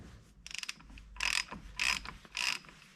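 A ratchet with a 32mm socket torques the axle nut of a 2009 Mini Cooper, giving a quick run of clicks followed by three bursts of ratcheting, close and fairly quiet.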